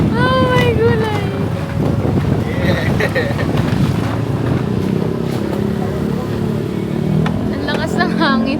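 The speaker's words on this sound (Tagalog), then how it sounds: "Ang lakas ng hangin." Strong wind buffets the microphone outdoors on a beach in Bali, a loud continuous roaring rumble throughout, with people talking underneath it.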